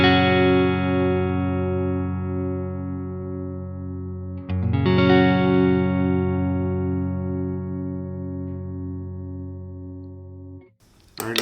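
A Westcreek TT-20 electric guitar rings out in sustained chords, with a second strum midway and a soft effects-coloured tone that decays slowly before a short noisy ending, loud and close with no talking.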